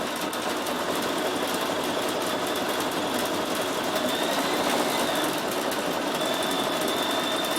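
A Bernina 7 Series sewing machine fitted with an embroidery module stitches continuously, its rapid, even motor whir and needle chatter steady and close throughout with no pauses.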